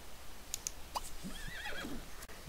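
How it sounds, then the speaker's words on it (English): A horse in The Sims 3 video game lets out a drawn-out whinny with a rising and falling pitch, loud and up front, preceded by a few short game clicks. "Hey, horse, stop it."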